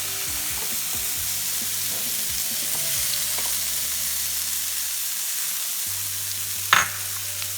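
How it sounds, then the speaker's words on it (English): Sliced apples and garlic sauté in a hot pan with a bright, steady sizzle, a low hum underneath and a sharp clatter of a utensil near the end, with no one talking. "Now we're going to saute the apples and the garlic."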